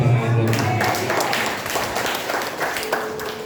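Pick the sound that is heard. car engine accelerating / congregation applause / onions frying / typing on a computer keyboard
congregation applause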